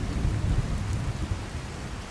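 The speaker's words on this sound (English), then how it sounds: "This lovely rain." Steady rain falls in a fantasy role-playing game, Skyrim, at a wilderness camp: a dense, even hiss of rainfall with a low rumbling undertone, continuous and unbroken, with no voices.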